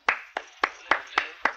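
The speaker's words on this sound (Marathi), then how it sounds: "टाळ्या वाजवायला काय झालं?" Six sharp hand claps at an even, deliberate pace, close and distinct, with silence between them.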